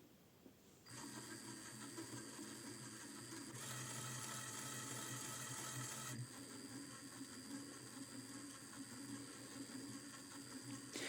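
Small motor on a robotics kit toy plane spinning steadily, a continuous faint mechanical whir and buzz that starts abruptly and holds on, swelling briefly louder in the middle, with no talk.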